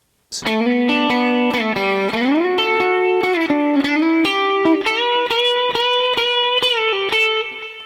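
A distorted electric guitar plays part of an intro riff, a run of picked notes with slides and ringing open strings, loud and close, with no voice.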